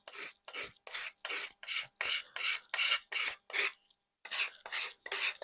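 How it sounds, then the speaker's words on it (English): A vintage rip saw's wooden handle being card scraped or sanded to strip old varnish: a dozen close, evenly spaced rasping strokes with one short pause partway through. "we'll give her a good card scrape, or if sandpaper is better, we'll do that"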